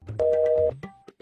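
A telephone rings during an outgoing call as a steady electronic tone that holds for about half a second, then breaks into clicks and short fragments, fairly close and loud.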